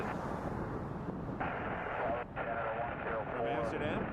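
A KLM airliner from Amsterdam landing at Toronto Pearson, a broad steady jet roar rumbling from a distance and holding at a constant level throughout.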